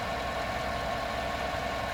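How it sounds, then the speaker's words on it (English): A 5.3 V8 truck engine idling with low oil pressure, giving a steady, even drone with constant loudness and no speech, recorded close by. "you probably heard that engine noise"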